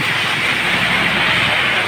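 Loud, unbroken rush of heavy rain with a low rumbling undertone like gusting wind, during a low-pressure storm in Samar.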